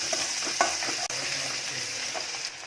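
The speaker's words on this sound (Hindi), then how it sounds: "एक मीडियम साइज का बारीक कटा हुआ प्याज डालेंगे और प्याज को भूनेंगे।" A finely chopped medium onion sizzles and fries steadily in a pan, with a few soft stirring scrapes and taps, no voices.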